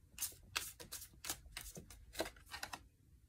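Tarot cards are shuffled and drawn, a run of quick, crisp riffling and slapping bursts that come close together and stay fairly loud, with no talking.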